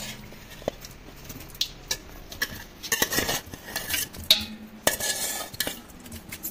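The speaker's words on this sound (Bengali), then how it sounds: "মাংস ঢেলে দাও পুরো।" Beef is poured into a pot for Kolkata-style biryani, producing scattered clinks, knocks and scraping clatter of utensil against metal, close by and irregular, with no talking.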